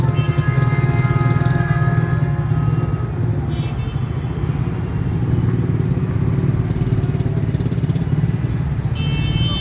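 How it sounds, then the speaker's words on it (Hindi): Honda City car engine idling under an open hood, a steady close mechanical hum with a fast even clatter that holds throughout, loud and without talk. "ये इसका इंजन है जनाब।"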